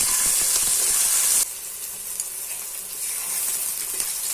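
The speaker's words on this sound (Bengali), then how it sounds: "আগে থেকে কুচিয়ে রাখা পেঁয়াজ কাঁচা লঙ্কা দিয়ে খুব ভালোভাবে হালকা ব্রাউন কালার করে" Chopped onion and green chilli frying in hot oil, a loud hissing sizzle that drops suddenly partway through and then carries on at a softer, steady level, heard up close.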